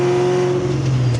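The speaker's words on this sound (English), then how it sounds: "I can also downshift." A cammed Terminator Cobra V8 blips its revs on a downshift in heavy traffic, a loud, close, brief engine roar that rises in pitch, with no talking.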